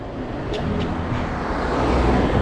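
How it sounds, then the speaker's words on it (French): Cars pass along a busy street during an outdoor portrait shoot, a steady broadband roadway rumble that slowly grows louder as a vehicle approaches up close, with no talking. "On va attendre que les voitures passent."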